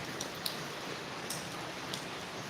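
Steady rain falls on a house being renovated, where a new rain gutter frame has just been fitted: a soft, even hiss with a few faint drips, and no talk.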